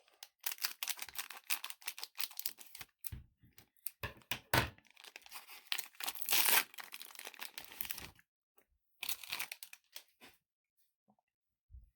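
A Mythik trading card booster pack is torn open by hand: close, crisp ripping and crinkling foil in irregular bursts, with short pauses and a final flurry after a gap.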